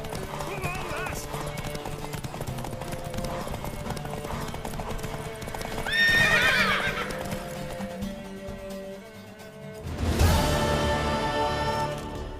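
Hooves clip-clop steadily under game music as a horse gallops in The Witcher 3, followed by a loud whinnying neigh near the end; voices speak over parts of it.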